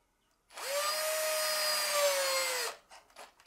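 A power drill drives a smaller screw into a homemade wooden doweling jig, one loud, close whine that holds steady for about two seconds and then cuts off, with no talk.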